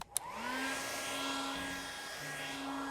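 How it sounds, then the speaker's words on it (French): A hair dryer with its wires hooked to a lamp socket switches on after a sharp click and runs with a steady, loud whirring hum that holds to the end. "Mais si je prends les fils de sèche-cheveux et que je les connecte sur la douille de la lampe"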